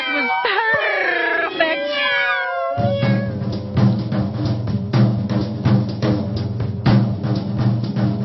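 A cat meows in a few rising, wavering calls near the start, over a backdrop of song with rhythmic music taking over after about three seconds.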